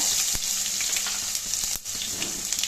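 Crushed garlic cloves fry in hot oil after mustard seeds have spluttered, making a loud, close, dense sizzle with quick popping crackles and a few stirring knocks, no voices.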